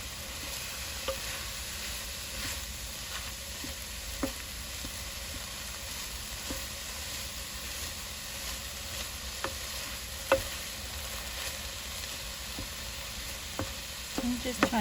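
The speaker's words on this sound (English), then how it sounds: "I'm just trying to break up the pieces as it browns so that they're small." Ground turkey browns in a pan for slow-cooker turkey chili, with a steady close sizzle and hiss of frying meat. Occasional scrapes and taps come from a utensil breaking up and stirring the pieces, and no voice is heard.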